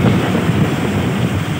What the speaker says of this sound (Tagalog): lakas na naman itong ulan.